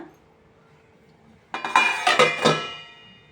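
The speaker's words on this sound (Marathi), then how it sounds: "त्याच्यावर मी जरा झाकण ठेवते हा" Quiet at first, then a metal lid clanks onto a pot of vegetable curry simmering on a low flame, with a few quick clinks and rattles before settling.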